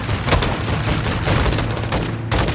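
Rapid, dense gunfire in the shooter game Call of Duty Modern Warfare 2, close and loud, a steady stream of overlapping shots with sharp bursts standing out, no talking.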